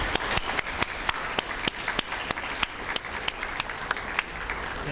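A lecture audience applauds to welcome a doctor onto the stage, steady dense clapping from a hall crowd with a few sharper individual claps standing out, continuing evenly throughout without speech.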